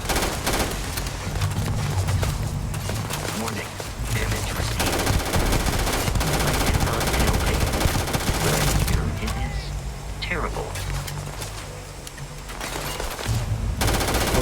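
Dense gunfire rattles through a shootout in the video game Starfield, with near-constant automatic bursts and overlapping shots running loud throughout, and a voice talks over it at times.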